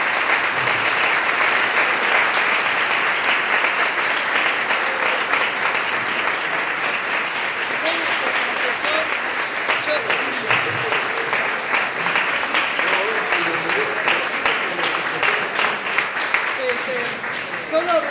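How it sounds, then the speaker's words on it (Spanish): Sustained applause from an audience at a lecture on the state, energy and RIGI, honoring a professor, steady and dense for the whole stretch, with faint voices murmuring beneath it. "pido ya un fuerte aplauso para el profesor Oslak"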